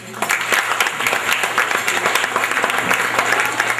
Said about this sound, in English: kindly give yourself a round of applause